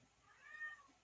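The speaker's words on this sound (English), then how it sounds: "He's just constantly meowing." Cat meowing at a door, a single faint, drawn-out meow heard alone in a quiet room.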